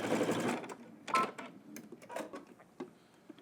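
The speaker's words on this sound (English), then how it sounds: "let's head to the machine, stitch down your outside seam using 5/8 of an inch seam allowance" Sewing machine stitching the outside seam of sweatpants, starting with a close, steady run that breaks into short stop-start bursts and soft clicks.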